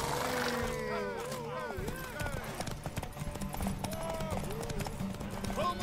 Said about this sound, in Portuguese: Montem seus cavalos!